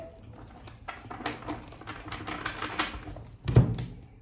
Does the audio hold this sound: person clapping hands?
no